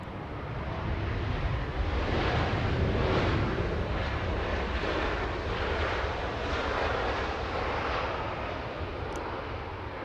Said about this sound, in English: aircraft just exiting the runway and taxiing on Zulu, crossing 24 left as we speak